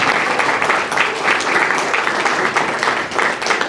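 Steady applause from the audience at a Southwestern College Hall of Fame induction ceremony, a continuous wash of many hands clapping at even loudness throughout.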